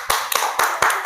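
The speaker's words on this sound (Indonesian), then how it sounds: "Tepuk tangan." Students in a classroom clap together in a few sharp, evenly spaced unison claps, about five bursts in quick rhythm, close and loud.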